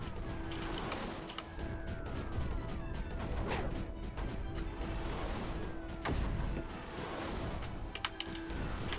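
Mortars lob shells at the enemy in the strategy game Creeper World 4, repeated sharp launch thumps and impacts popping through a dense, constant bed of busy game effects.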